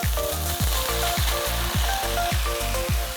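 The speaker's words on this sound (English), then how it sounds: "Add the cooked rice to the pan." Cooked jeera rice tossed in a pan with ghee, cumin and green chilli, a loud close sizzle punctuated by regular rhythmic scraping thumps of a spoon stirring, about three per second.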